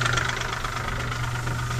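A running engine heard around a pig farm, a steady mid-pitched mechanical drone with a faint even rattle, loud and continuous throughout with no voices over it.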